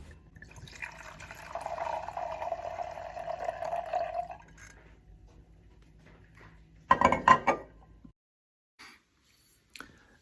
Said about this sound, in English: Now let's get pouring.